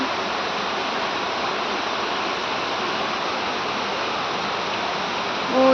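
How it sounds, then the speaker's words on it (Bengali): Heavy rain pours down on a dark day, a dense, steady, close hiss of falling water that stays even throughout with no talk over it. "আকাশটা কি যে বৃষ্টি পড়ে চারিদিকে বৃষ্টি"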